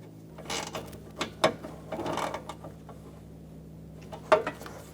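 Hand tools work on AC line bolts of a 2005–2015 Toyota Tacoma during a condenser and receiver drier replacement, giving soft mechanical clicks and ratcheting taps in short bursts, close and fairly quiet.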